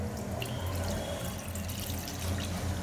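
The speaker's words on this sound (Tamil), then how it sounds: "இப்போ ஒரு பாத்திரத்துல 1/2 லிட்டர் பால் சேர்த்துக்கறேன்" Half a litre of milk pours into a cooking pot for fruit custard, a steady liquid splash running close and continuous from start to end with no talk over it.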